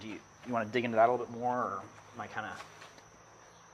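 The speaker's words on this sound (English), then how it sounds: "if people are stressed, I think they should just come and sit out here and like you can hear the crickets chirping" Crickets chirp steadily outdoors in a quiet natural setting, a faint constant high-pitched trill running under a conversation between people talking close by.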